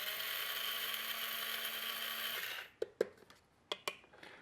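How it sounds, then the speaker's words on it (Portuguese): Coffee beans grinding in a pulse-operated grinder: a steady, dense whirring grind for about two and a half seconds that cuts off abruptly, followed by a few sharp taps and clicks close by. "Ainda dá para moer um pouco. Nossa, o aroma é muito bom. Dá para moer um pouco mais."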